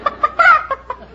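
A person imitates a chicken's cackle, giving a close, loud series of clucks with one longer drawn-out squawk in the middle, heard alone.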